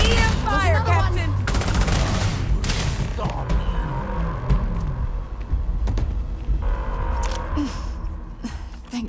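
EM rifle gunfire from the Starfield video game comes as loud, continuous bursts of shots and energy zaps, with voices shouting over the sustained firefight.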